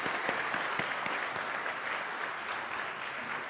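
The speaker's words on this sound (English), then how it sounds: "So let's have one more round of applause for our children's music programming." A congregation at a multigenerational Sunday service claps for the children's music program, a dense, steady round of applause that fills the room evenly without voices.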